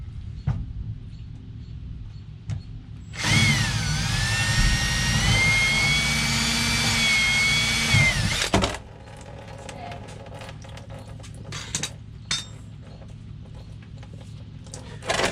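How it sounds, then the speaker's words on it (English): A power drill bores a hole in a diesel fuel tank on a 5.9 Cummins truck, a loud, steady whine that holds about five seconds before cutting off, framed by quieter clicks and handling noises. "drill the whole hole in here, and then we'll deburr all that, try to keep everything out of the tank."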